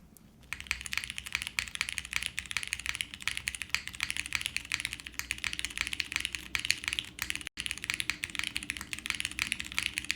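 Someone types steadily on a Suisei themed mechanical keyboard fitted with Cherry switches. Quick, even clacks run without pause, close and clear, with no voices.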